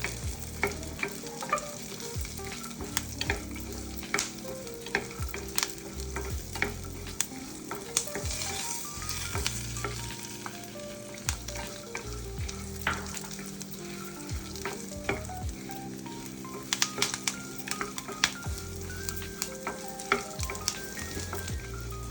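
Curry leaves frying in hot oil for a bel puri and khara puri snack, with a continuous close sizzle broken by repeated spoon stirs and light metallic scrapes, no talking.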